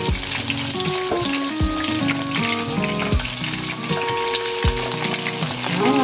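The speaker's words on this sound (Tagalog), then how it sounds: "At iprito. Baliktarin natin guys para pantay yung pagkaluto." Chicken pieces coated in egg, flour and cornstarch frying in oil, giving a steady dense crackle and bubble with occasional clunks of the pieces being turned, close and continuous, with no speech.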